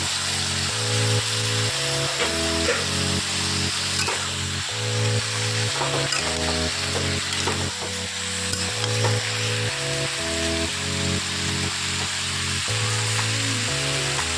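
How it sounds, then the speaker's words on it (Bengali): Boiled cabbage dropped into a hot pan for a Bengali mixed-vegetable dish with panch phoron, giving a steady hissing sizzle that runs throughout beneath prominent melodic background music. "আমি এই বাঁধাকপি সেদ্ধটা দিয়ে দিচ্ছি"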